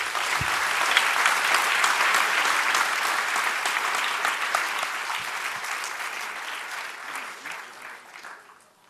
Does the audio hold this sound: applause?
yes